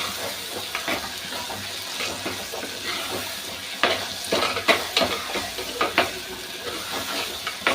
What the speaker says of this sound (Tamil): குழம்புக்கு தேவையான உப்பை இப்போவே போட்டுறேன் இந்த தக்காளியும் நல்லா வதங்கணும்